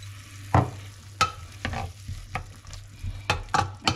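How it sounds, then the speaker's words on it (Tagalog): Oyster sauce is stirred into a sizzling pan for spicy salmon with black beans and soy sauce, with a soft frying hiss broken by several sharp scrapes and clinks of the utensil against the pan. "Lagyan natin ng oyster sauce."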